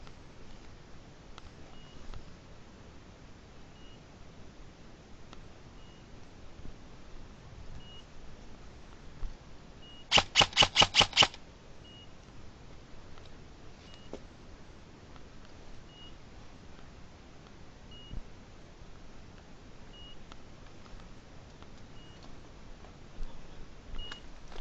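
Airsoft bomb prop emitting a short rapid burst of about ten sharp electronic beeps, loud against a quiet outdoor field background before going silent.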